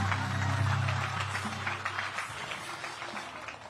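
Spectators at a Bassmaster Elite bass fishing tournament weigh-in on the Mississippi River clap for an angler, a scattered outdoor applause over a low droning rumble that drops away partway through, leaving the claps to thin out.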